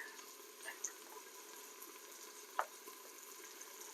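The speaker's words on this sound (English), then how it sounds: "as you can hear, my bacon's starting to cook" Bacon frying in a pan for homemade charro beans gives a faint, steady sizzle with a few soft pops and crackles, quiet and continuous.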